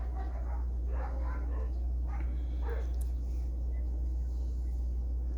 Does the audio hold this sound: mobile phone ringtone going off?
no